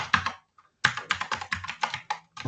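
Fast typing on a computer keyboard while coding in Kotlin: a short burst of key clacks, a brief pause, then a steady run of crisp, close keystrokes with no talk over them.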